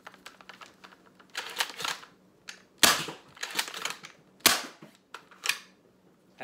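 A homemade SLAB second-prototype gun fires a series of sharp, snappy cracks, about five or six spaced shots close by, with quiet clicking and handling between them.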